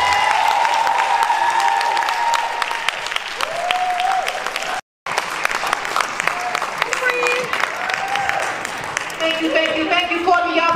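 An audience at a poetry event applauds a poet named Courtney, dense sustained clapping with cheers and whoops throughout, a momentary cut midway, while voices call out over the crowd.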